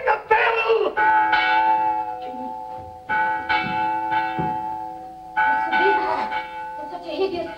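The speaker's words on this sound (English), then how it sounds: "Ring the bell!" Alarm bell clanging in an old castle during a staged Shakespearean tragedy, repeated loud metallic strokes in several bursts with sustained ringing tones, shouting voices and commotion around them.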